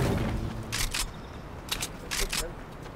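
Gunfire in a Brazilian online battle-royale style video game, several short bursts of rapid shots fired in quick clusters, loud and close, with players talking over them.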